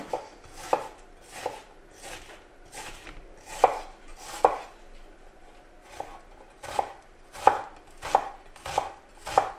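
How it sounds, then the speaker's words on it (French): A knife finely slices an onion on a cutting board, giving a series of crisp, close chopping strokes in an uneven rhythm, each with a sharp click, with quiet pauses between and no talk. "On va émincer l'oignon assez fin."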